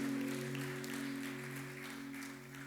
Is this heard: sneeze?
no